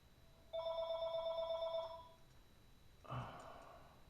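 A telephone bell rings in a pottery workshop where raku pots are made, one loud continuous ring of about a second and a half, then a short lower clatter after a pause, with no talk.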